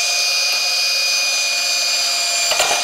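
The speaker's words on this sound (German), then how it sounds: "Bohren wir einmal." A power drill runs steadily at full speed for nearly three seconds, a loud continuous whine close up, with a brief clatter near the end as it stops or shifts.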